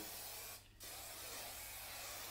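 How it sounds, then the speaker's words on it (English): A single short hiss of a hairspray aerosol, quiet and close, lasting under a second against a faint background. "Just give it a nice spray"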